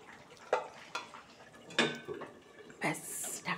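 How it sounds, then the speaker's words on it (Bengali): A lid set onto a cooking pot of fish with gati kochu taro and potatoes, heard as a few sharp metallic clanks and clatters spread out over a few seconds, close by. "এবার ঢাকা দিয়ে দেবো"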